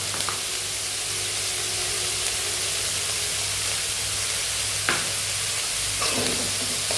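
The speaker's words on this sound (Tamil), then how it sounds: "இந்த வெங்காயம் வதங்கும் போதே நம்ம சால்ட் சேர்த்துக்கிறோம்." Onions sauté with salt in a pan for vegetable samosa filling, a loud, continuous frying hiss with occasional stirring scrapes and a low steady hum beneath.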